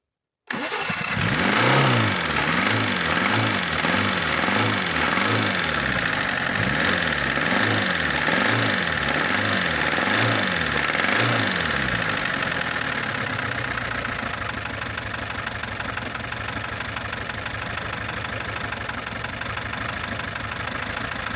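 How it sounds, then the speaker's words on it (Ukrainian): VAZ 2104 car engine cranking and catching, then running with a steady mid-pitched idle and a slight rhythmic knock from a worn timing chain, loud and close for about twenty seconds. "чути на відео, здається, цепка трохи товче, треба попробувати її натягнути"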